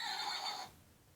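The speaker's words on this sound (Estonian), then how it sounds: "Seal on hobune." A horse gives a short, faint whinny that breaks off abruptly, followed by near silence.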